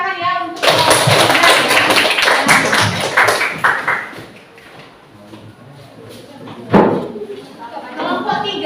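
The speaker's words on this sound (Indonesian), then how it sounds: "Tepuk tangan ya untuk" Classroom clapping as students applaud a presenting group, a dense burst of hands for several seconds that fades, followed by a short sharp knock and faint murmuring chatter.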